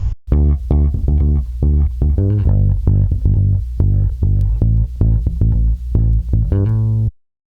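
A bass guitar plays a few bars of a song, with a steady string of plucked notes in a bouncing rhythm, close and loud, before stopping abruptly.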